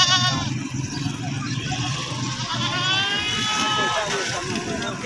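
Goats bleat repeatedly at a busy livestock market in Choti Bala, DG Khan, several animals calling near and far over steady crowd chatter and talk.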